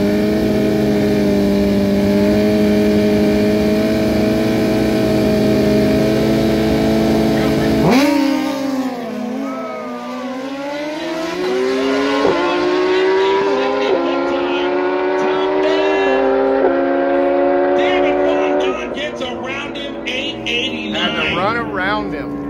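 A 2020 BMW S1000RR superstock racing motorcycle, a loud sustained engine whine rising and shifting through gears, with an announcer talking over it.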